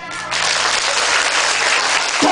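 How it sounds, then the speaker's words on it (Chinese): Audience at a magic show bursting into loud, dense applause that starts abruptly and holds steady to the end, with no talk over it. "请掌声鼓励鼓励"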